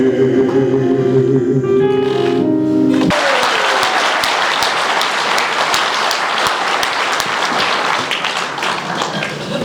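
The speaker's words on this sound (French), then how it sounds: "On applaudit à vos espoirs." Audience applause at a theatrical-musical stage performance in Chalosse, breaking out loud and dense after a sustained musical chord cuts off, then continuing as steady close clapping to the end.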